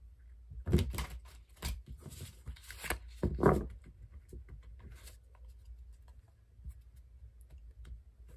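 Tarot cards being shuffled in soft, quick riffles and patters with a few louder bursts, close by in a quiet room.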